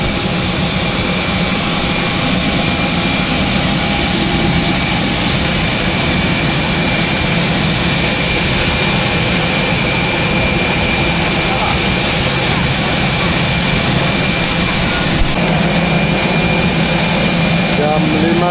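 Batik Air jet airliner engines at Jakarta airport Terminal 2, a steady loud roar and whine that fills the whole stretch while voices talk over it in a busy boarding queue.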